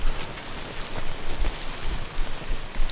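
Steady rain falling in the Death Stranding video game, a continuous dense hiss of drops at even loudness, with no voices over it.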